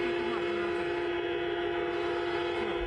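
Steady blaring horns sound together without a break, a sustained mix of ship sirens on the Caspian Sea shore and car horns filling the whole stretch, during a commemoration in Azerbaijan.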